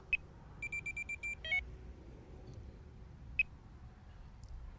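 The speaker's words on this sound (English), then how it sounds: "so just activate the first buzzer" A Delkim TXI Plus fishing bite alarm buzzer sounds a single sharp beep, then a quick run of six evenly spaced beeps and a brief warbling burst, followed after a pause by one more isolated beep, all close and clear over quiet room hiss.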